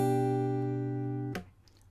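An acoustic guitar chord is plucked and rings out with sustained tones for over a second before being muted abruptly, leaving a short faint scrape.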